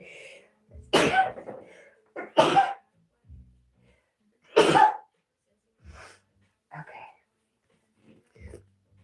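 Several sharp sneezes burst out close by, one after another, followed by quieter sniffs and small throat sounds with pauses between.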